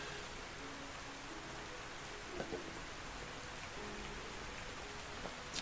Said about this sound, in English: this does look so cool in the rain, but the rain on this map is super dark